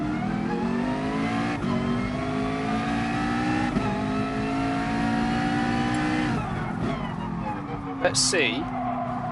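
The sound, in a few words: McLaren race car sliding at the rear, racing video game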